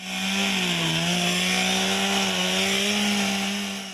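A chainsaw cuts branches off a felled tree during a timed delimbing event at a forestry workers' competition, its engine holding a loud, steady high-revving whine throughout, close and without talk.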